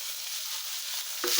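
Ginger paste hits hot oil with onion and garlic paste, a steady close sizzle that swells louder with a stirring clatter near the end, no talking.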